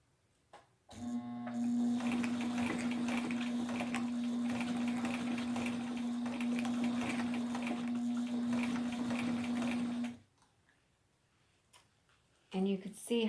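A sewing machine on a step-down pulley setup stitches slowly through leather and vinyl, one steady humming run of about nine seconds with a rapid needle ticking, starting and stopping abruptly, with a voice briefly after.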